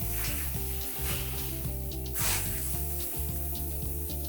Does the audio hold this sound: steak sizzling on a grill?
yes